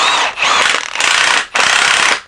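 A ratchet loosening a front strut nut on a BMW E46 330i/325i during strut replacement, heard up close and loud as three long bursts of rapid clicking separated by brief pauses, with no talking.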